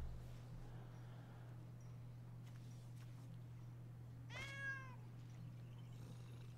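A cat gives a single short meow, faint and distant, over a constant low electrical hum in a quiet room during a card-game session.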